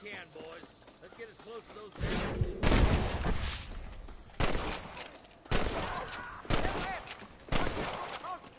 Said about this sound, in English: I feel like I'm firing blanks with this gun, man.